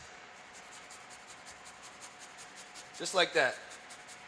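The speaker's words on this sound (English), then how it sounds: "Next, we're going to grate our garlic, all right? You just grate it in there." Garlic cloves being grated make a regular, soft rasping rhythm of quick strokes, faint and close, while a voice speaks briefly over it.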